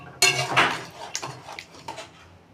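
A spoon scraping and clinking against a pot as thick chicken masala is slowly mixed with a little water, a few distinct knocks and scrapes at close range, spaced irregularly over a quiet background.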